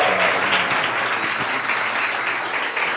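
A church congregation claps in sustained, dense applause welcoming a preacher at a morning service, loud and continuous throughout.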